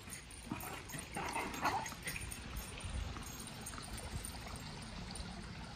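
Dogs bark and whimper off and on against a steady background noise, moderately loud, with a few sharper yelps clustered near the middle.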